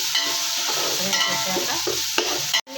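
Rice with chopped coriander stirred in a pot for chicken palav, giving a loud, steady sizzle with continuous scraping and clinking under it. The sound cuts out briefly near the end, and no one speaks.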